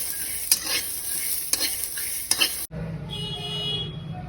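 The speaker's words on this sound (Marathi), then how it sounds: "आता आपण थोडेसे हे बिये भाजून घेऊया" Fresh pigeon pea seeds roast in a pan with a steady, dense sizzle and a few stirring scrapes, and then the sound cuts to a quieter, lower background partway through.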